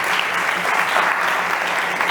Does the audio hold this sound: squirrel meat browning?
no